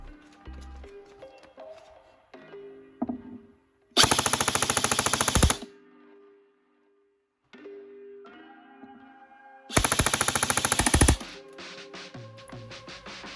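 A Krytac Trident MK-II CRB airsoft electric gun fires on full auto in two loud, rapid mechanical bursts of about a second and a half each, set apart by quieter stretches of faint background tones.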